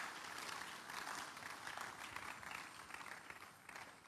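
A church congregation applauding in praise, dense steady clapping from a large crowd at a moderate distance, sustained throughout without a clear break.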